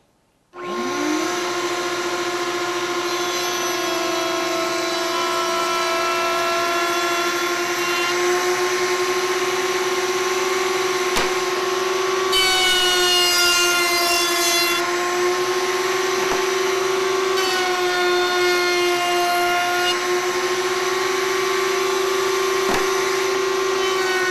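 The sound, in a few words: dust collector running, plugged into router tube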